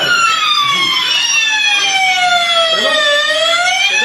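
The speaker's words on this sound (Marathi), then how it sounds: "तुम्हाला काय करायचं आहे की कंटिन्यू वाजू द्या सायरन" A fire alarm siren wails during a fire mock drill at a housing society, its electronic tone sweeping up and down continuously, loud and close throughout.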